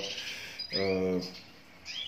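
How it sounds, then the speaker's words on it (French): Posture canaries, frizzled-feathered and Gloucester birds, chirp in short bright tweets and trills, one clearer burst in the middle, over a soft background. "des canaris de posture à plumes frisées ou des Gloucester"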